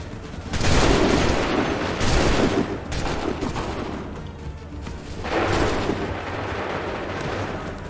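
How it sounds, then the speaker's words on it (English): Volleys of musket fire ring out on a battlefield in Assassin's Creed III, with two big bursts of massed gunshots crackling at once, each trailing into scattered shots and rumbling echo. "Open fire. Prepare yourselves. Fire!"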